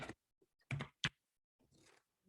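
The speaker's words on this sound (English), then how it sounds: "Okay, now I got to shuffle again and then see what cards want to come out." A deck of tarot cards is shuffled in a few short, close riffles and soft slides separated by silent pauses, quiet and with no talk.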